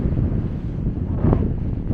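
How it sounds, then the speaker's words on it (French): Strong wind buffets the microphone near a rice-growing area, a constant loud low roar with gusty fluctuations and no voices. "il y a énormément de vent"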